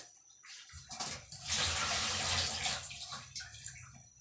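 Water poured into a pot while cooking chop suey, a steady splashing gush that swells for a few seconds and then tapers off, close and alone.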